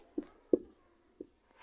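Pen or chalk marks being written out during a class 9 maths lesson on decimal expansions, three short separate strokes at uneven intervals, quiet and close, with no talking.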